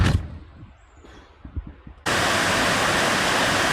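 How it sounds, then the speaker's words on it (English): Long Creek Falls on the Appalachian Trail roars as a loud, steady broadband rush that cuts in abruptly after a quieter stretch of faint outdoor sounds, with no voices. "This is Long Creek Falls."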